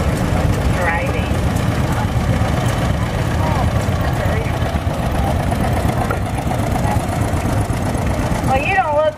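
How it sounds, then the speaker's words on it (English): Antique 1952 John Deere B tractor engine running steadily and loudly throughout an outdoor tractor parade, with a crowd and announcer-style voices talking over it. "1952 John Deere B, another owner Roger Yost."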